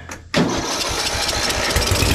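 A budget racing lawn mower built from junk, running on race gas with the choke on, fires up abruptly after a brief quiet moment and settles into a loud, close, steady rattling idle.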